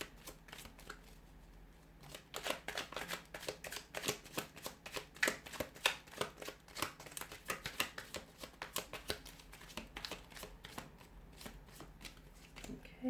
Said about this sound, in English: I'll give the cards a shuffle here